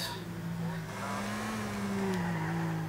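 A car in Grand Theft Auto IV pulls away with tires squealing, a long rising engine whine and skid tone over a steady rumble, close and continuous.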